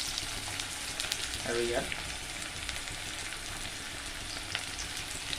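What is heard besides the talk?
turmeric frying and sizzling in hot oil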